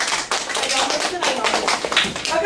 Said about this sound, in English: Y'all give them a hand clap.